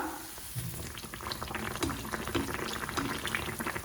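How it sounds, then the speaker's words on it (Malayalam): Broken-wheat neyyappam frying in oil over a low flame, giving a steady dense bubbling and crackling that stays close and even throughout, with no voices. "അപ്പോൾ ലോ ഫ്ലെയിമിൽ ഇട്ട് വേണം നമുക്കിത് ഫ്രൈ ചെയ്തെടുക്കാൻ കേട്ടോ"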